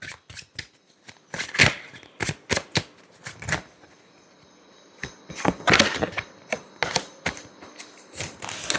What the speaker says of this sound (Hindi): और शफल करते हो